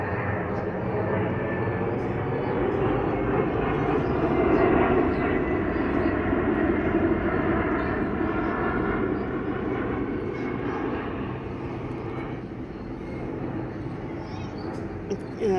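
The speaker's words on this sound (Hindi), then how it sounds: "जहाज़ जा रहा था ना" An airplane passes overhead outdoors, a loud, steady broadband roar that swells slightly near the middle and fades a little toward the end, filling the whole stretch.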